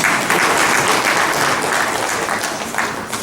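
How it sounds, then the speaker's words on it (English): An assembly audience breaks into loud, sustained applause, many hands clapping in a dense continuous wash that fades slightly toward the end. "Yes, you can clap for that."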